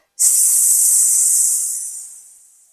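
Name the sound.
voice imitating a whistling tea kettle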